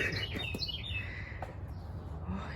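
A songbird sings faintly outdoors, a few thin high chirps and a short phrase over steady low background rumble.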